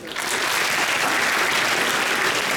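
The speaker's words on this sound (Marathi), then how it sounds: "हात त्यांच्यासाठी टाळ्या होऊ देत" An audience at a motivational talk bursts into applause, a dense, steady wash of many hands clapping that starts abruptly and holds loud throughout.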